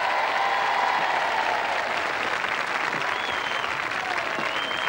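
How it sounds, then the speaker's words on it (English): Studio audience applause for Gary Lineker at a 1987 royal charity knockout tournament, a loud, steady wall of clapping from a large crowd that holds evenly throughout. "A round of applause for Gary Lineker."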